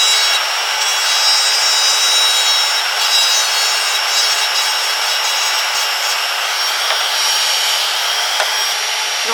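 An electric nail drill running forward at 35,000 rpm files the top of an acrylic almond nail, a constant high-pitched whine with a fine gritty hiss that holds steady and close for the whole stretch.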